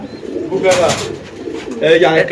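Bukhara pigeons, including a female, coo in short throaty bursts, two close, clear rounds separated by a brief pause, with someone talking over them.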